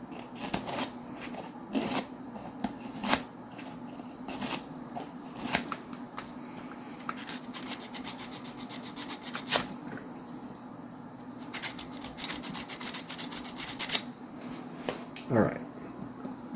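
Sandpaper scrubbing a part of a Tyco Power Torque Baldwin RF-16 Sharknose HO scale model locomotive, irregular soft scratchy strokes and small clicks, close and quiet, with a voice briefly present.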